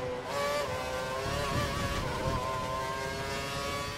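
A Formula 1 car at the Brazilian Grand Prix drives with a loud, sustained engine whine whose pitch shifts slightly as it holds speed, with no voices.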